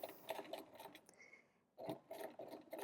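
Sewing machine running a short back stitch on layered scrunchie fabric, a soft rasping mechanical whir in two bursts separated by a brief pause, close and fairly quiet.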